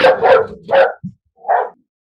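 A big dog gives three loud, close barks in quick succession, then a short low grunt and one softer bark after a pause, ringing out alone in a quiet room.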